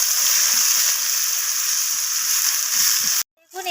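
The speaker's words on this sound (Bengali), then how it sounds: "তো পেঁয়াজগুলোকে আমি হালকা ব্রাউন রং করে ভেজে নেব।" Onions frying in a pan until light brown, a steady bright sizzle running continuously for about three seconds before cutting off abruptly, with faint voice-like sounds briefly at the end.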